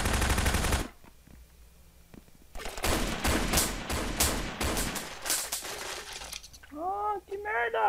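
Machine gun bursts in the shooter game Brain Out, a dense run of rapid automatic shots over several seconds, loud and close, with a breaking-glass-like crash and brief electronic tones near the end.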